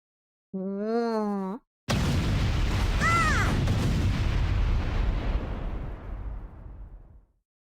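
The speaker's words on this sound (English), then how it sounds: "Sniper Aris. Wow, that boulder must have been at least 800 meters away. It's just dust now." A sniper shot in Blue Archive blasts apart a distant boulder: a short synthetic voice-like tone first, then a loud sudden boom that rolls into a long rumbling crumble and fades away over several seconds.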